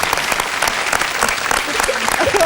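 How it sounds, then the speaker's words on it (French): A French television game show studio audience applauds loudly, a dense continuous burst of clapping from a crowd close by, filling the whole moment. "On vous applaudit très très fort."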